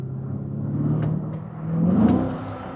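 A Corvette C8 engine in sport mode rises in a smooth, swelling hum as the car accelerates, heard from inside the cabin, steady and moderately loud with a second surge near the end.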